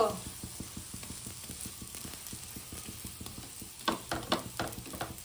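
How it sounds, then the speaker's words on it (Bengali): Aloo paratha frying in a pan gives a steady, close sizzle, with a run of quick, even taps from pressing and turning it, then a few louder scrapes near the end. "দেখো কত সুন্দর ভাজতেছি"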